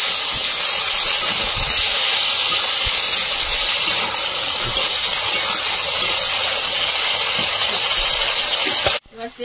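A pressure cooker with chicken curry and potatoes vents a loud, steady steam hiss that runs almost the whole time, then cuts off abruptly near the end.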